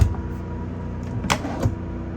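A short sliding scrape and a couple of soft knocks as a dresser drawer in a 2015 A.C.E. 30.2 motorhome is pulled open, close by with a low hum underneath.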